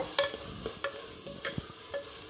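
Roasted eggplant is stirred in a pan with a spoon, giving several sharp metallic scrapes and clinks at an uneven pace over a soft background sizzle, close up and with no speech.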